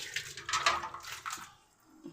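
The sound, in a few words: pouring water over a clay pot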